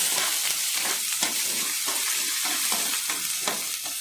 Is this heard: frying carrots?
yes